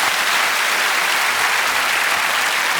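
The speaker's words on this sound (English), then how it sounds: "I'm going to have a round of applause for that." Steady audience applause fills a studio during a science show for young people, dense and even throughout with no voices over it.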